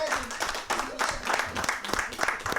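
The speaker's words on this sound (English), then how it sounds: "I want to give Mr. Ken Koontz another round of applause." Audience applause honoring Ken Koontz at a gathering, a short stretch of scattered clapping with rhythmic bursts, mixed with voices and room noise.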